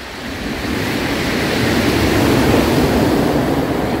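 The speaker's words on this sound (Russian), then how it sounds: "И шум волн." Sea waves breaking on a quiet Abkhazian shore in the evening, a continuous loud wash of surf swelling steadily, with wind noise on the microphone and no voices.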